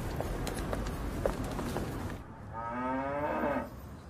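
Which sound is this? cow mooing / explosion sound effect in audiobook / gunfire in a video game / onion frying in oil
cow mooing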